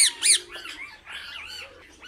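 Harsh squawks from a row of parrots in an aviary at a Salem tourist spot, a few loud close calls at first, then quieter overlapping chatter that trails off.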